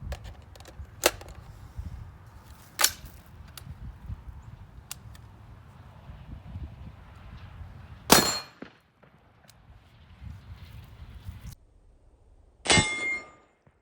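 Rifle rounds of 55 grain XM193 fired from a 14.5-inch barrel strike a steel target at 25 yards, making a few sharp metallic clangs and rings spaced several seconds apart over low background rumble.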